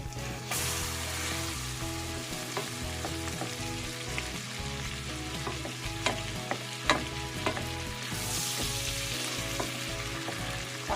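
Salmon belly frying in a hot pan gives a loud, steady sizzle with scattered sharp pops and crackles throughout; nobody speaks.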